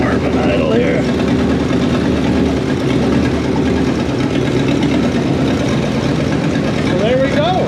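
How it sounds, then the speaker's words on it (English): A 1968 Jeep J3000 Gladiator pickup idles with a loud, rough, continuous rumble, with someone talking over the engine throughout. "But when you're down to a little bit of an idle, more of an idle here."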